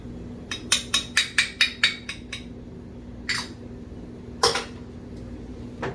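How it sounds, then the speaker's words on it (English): A spoon stirs tomato basil soup in a metal pot, producing a quick series of about eight sharp clinks against the side, then a couple of scattered scrapes and taps, close and clear over a low kitchen hum. "You give it a nice stir."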